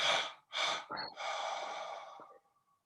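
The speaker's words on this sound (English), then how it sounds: "So we inhale and exhale 3 times." Triple exhalation breathing exercise: three forceful breaths out in close succession, the first two short and sharp, the third long and drawn out before trailing off, close and clear with no talk.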